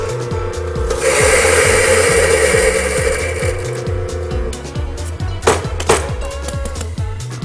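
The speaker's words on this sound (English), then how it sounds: "I have 30 grams of coffee that I've weighed out, and I'm going to grind that on the grinder" About 30 grams of coffee beans are ground in a grinder: a harsh, steady rasping whir runs loud for several seconds, then thins into sparser crunching and a few knocks as the grinder empties.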